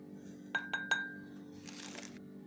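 A spoon tapping a glass three times in quick succession while two spoonfuls of thyme go into a hair-care herbal mix, bright ringing clinks followed by a soft rustle of the herb being added.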